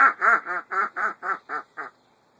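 A man imitates a duck with his voice, giving eight rapid, evenly spaced nasal quacks that fade slightly toward the end, close and clear with no other sound.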